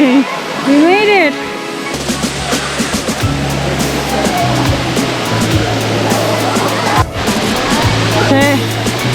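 A big waterfall on a Nuuanu hike in Hawaii roars as a constant broadband rush of falling water, loud and close, while people talk and exclaim over it.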